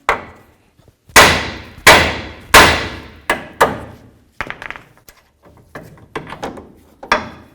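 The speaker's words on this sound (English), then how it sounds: "You can do that with a couple loving bonks with a hammer" A hammer strikes a tie rod end on a 2002-09 Dodge Ram 1500 in several loud, sharp metal blows, then lighter clanking taps follow at an uneven pace, close by.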